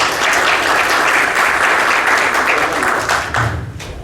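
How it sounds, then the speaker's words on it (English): Conference audience at an Android developer event applauds a speaker taking the stage, a loud, sustained round of clapping from a full room that tapers off at the end. "Let's do an applause, please"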